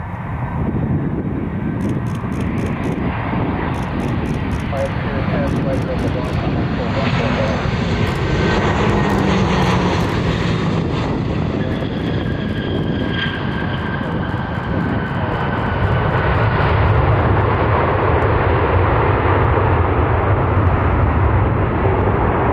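An airliner comes in to land at Cleveland Hopkins airport, its jet engines making a loud, continuous roar that shifts in pitch as it passes, with air traffic radio chatter heard throughout.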